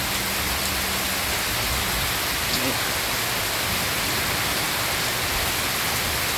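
A heavy downpour keeps up a constant, loud wash of falling rain nearby, with a faint low murmur briefly underneath but no clear speech.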